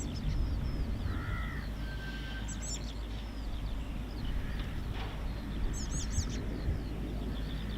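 Crows cawing a few times at a distance over steady background noise near the QRA station at RAF Coningsby, where Eurofighter Typhoon FGR4 jets operate; no talking.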